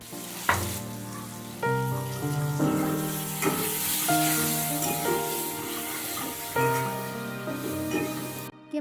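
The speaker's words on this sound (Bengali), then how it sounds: "আর মোরলা মাছটা আগে ভালো করে ভেজে নিচ্ছে" Small mola fish frying in a pan of hot oil, with a steady crackling sizzle and bursts of spattering over a faint tonal background.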